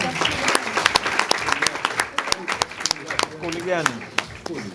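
Applause from an audience as a prize-winning student is called up at a science awards ceremony in Zanzibar, a dense run of claps with sharp individual hand slaps standing out, steady throughout while a voice speaks over it toward the end.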